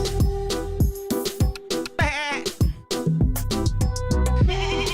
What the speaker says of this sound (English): When I hear that goat